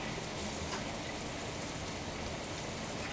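Cold tap water runs steadily over a cooking pan, a constant hissing splash close by with no breaks and no talk.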